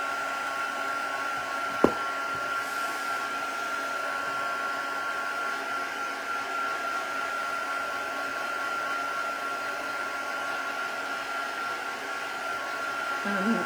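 A hair dryer drying paint on an art journal page, a steady close whirring hum that runs the whole time with one small click near the start, and no talking.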